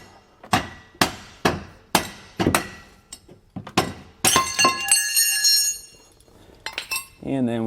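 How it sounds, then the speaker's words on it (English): Mallet smacking U-bolts on a leaf spring axle of a 2022 Jayco Eagle trailer, about eight sharp ringing metallic strikes in a steady rhythm, followed by clinking metal parts, close up. "You can take a mallet to it and just kind of give it a couple smacks"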